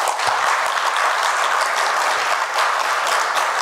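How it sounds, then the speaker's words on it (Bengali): Loud audience applause fills the room at the close of a book programme, a dense, continuous roar of clapping at steady strength from start to finish. "সবাইকে অনুরোধ করে একটা জোরে করতালির মাধ্যমে"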